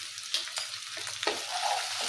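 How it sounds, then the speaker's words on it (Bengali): Ginger garlic paste fries in oil in a kadai with a soft, close sizzle broken by light stirring scrapes and taps of a spoon against the pan. "আদা রসুন বাটাটা একটু ভাজা ভাজা হয়ে গেলে"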